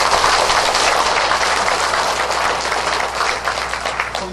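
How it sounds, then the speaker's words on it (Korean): A church congregation claps in encouragement during a Sunday morning service: dense, steady applause from many hands fills the space, holding fairly loud throughout and thinning slightly toward the end. "우리 자모실 우리 자모님들 우리 격려 박수 한번"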